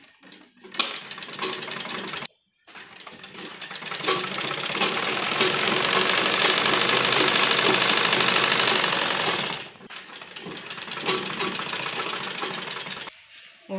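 A sewing machine stitching a school uniform runs in loud, steady bursts with short pauses between runs, a dense rapid mechanical whir close by with no voices.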